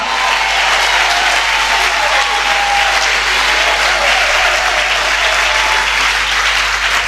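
Church congregation applauding during a Sunday service, a loud, sustained roar of clapping from a large crowd that holds steady and close throughout.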